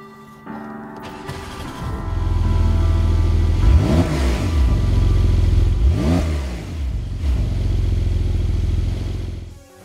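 A 2019 Porsche 911 Carrera 4S of the 992 generation, fitted with a particulate filter, idles and then revs hard, its flat-six roaring through two rising acceleration sweeps before settling into a steady, loud drone.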